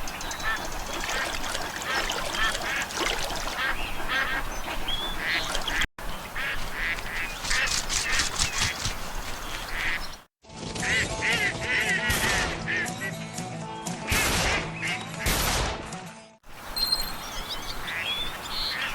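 Duck calls and quacking from the Duck Dynasty video game, repeated honking bursts over busy outdoor game ambience, with a voice talking at times and brief silent cuts between sections.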